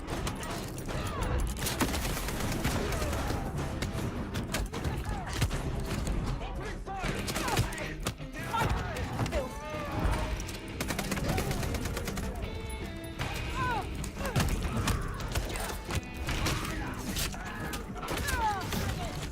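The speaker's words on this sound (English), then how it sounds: "Agent down. Opening fire." Sustained gunfire in Vampire: The Masquerade - Bloodlines 2, with bursts and shots layered over dense game music and effects throughout, and voices talking in the mix.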